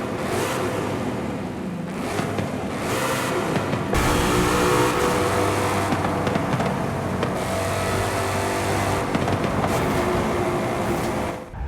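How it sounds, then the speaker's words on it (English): A Ford 5.2 liter V8 in Forza Horizon 5 revs hard inside a tunnel, a loud, sustained engine roar that swells and holds with reverberant echo, no voices over it. "now we will do a V8 sound battle"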